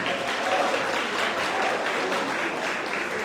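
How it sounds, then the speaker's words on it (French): Applause at a parish gala evening celebrating ten years of a Sacré-Coeur parish, steady clapping from an indoor crowd sustained evenly for a few seconds without talk. "Encore des applaudissements pour Rachel Dami, s'il vous plaît."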